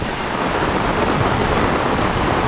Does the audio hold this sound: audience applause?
no